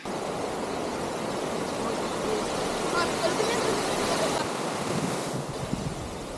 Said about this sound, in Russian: Вот он сам, гигантский новоафонский водопад, который вытекает из этого прекрасного озера.